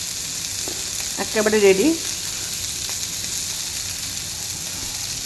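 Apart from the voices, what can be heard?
chicken frying in a pan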